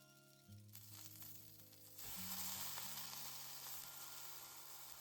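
Red bell pepper and baby corn sizzle and fry in a pan as they brown for Japanese soup curry, a steady faint hiss that swells louder partway through, with some stirring.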